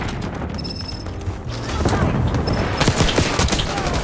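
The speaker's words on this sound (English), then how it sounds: "Why are you shooting my body?" Rapid gunfire in Black Ops 6, a burst of shots aimed at a downed player's body, loud and continuous over the second half with a voice talking over it.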